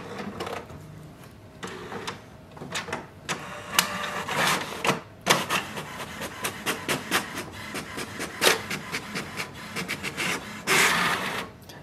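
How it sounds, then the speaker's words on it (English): An HP Smart Tank 7300 printer runs a page through, whirring mechanically with a series of rhythmic clacks and rattles, then a louder rushing burst near the end. "and click on the print button."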